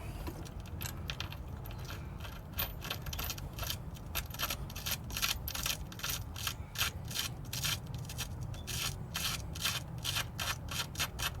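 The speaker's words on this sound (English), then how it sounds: "you can hear the noise of the dirt as I'm winding it in" A 40mm bolt being wound by a 17mm socket spanner into a freshly tapped, dirty threaded hole on an 80 Series Landcruiser, with faint, close, rhythmic gritty clicking and rasping as it turns.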